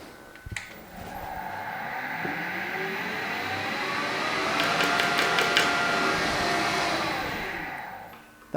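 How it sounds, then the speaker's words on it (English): A Harrison HS170 universal mill's main motor starts with a click, then hums and whines steadily at close range, the sound swelling slightly mid-run with a few brief rattles before it cuts off. "if I start the main motor"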